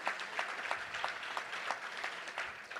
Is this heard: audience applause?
yes